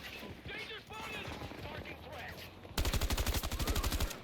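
Rapid AK-5C rifle bursts in Battlefield 2042 gameplay, loud evenly spaced shots cracking in a fast rhythm after a stretch of game noise and voices talking.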